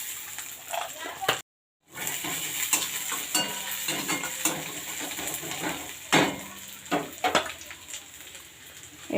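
Onions with chopped garlic and nigella seeds sizzle softly in hot oil, with stirring and utensil scrapes scraping through at intervals and one brief dropout in the sound.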